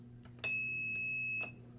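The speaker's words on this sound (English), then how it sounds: "when it's closed and you press the button, we should get a beep" A beginner electronics kit circuit gives a single steady electronic beep of about one second when its button is pressed, clear and close, with a faint hum underneath and no talking.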